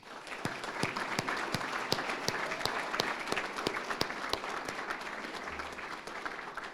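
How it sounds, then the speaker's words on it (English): Audience applause at the FTCC Giving Gala, a dense, sustained round of clapping with distinct sharp claps standing out, heard alone without talk. "so please give them applause"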